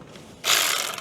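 A ratchet clicks briefly while tightening the power steering reservoir bolt on a 2021 Subaru STI, a short close burst of pawl clicks with no talk.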